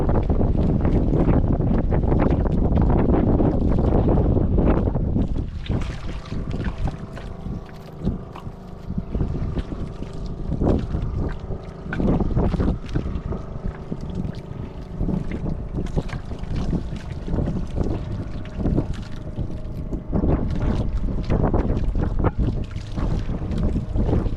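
A boat engine drones steadily with heavy wind buffeting the microphone, the rumble swelling and easing across the whole stretch with no talking.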